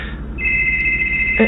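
A telephone in a horror setting rings with a steady electronic tone that starts a moment in and holds evenly, fairly close, over a low background hum.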